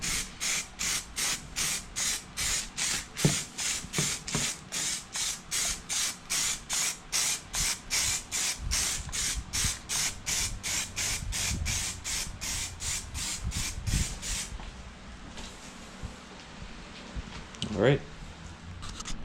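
Paint spray gun coating a car bumper, firing rapid rhythmic bursts of hissing spray for about fifteen seconds before fading into quieter background sounds.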